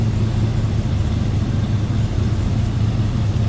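A 1957 Chevrolet Apache 3100 pickup engine with dual exhaust runs steadily at close range, a continuous low rumbling idle with no talk over it.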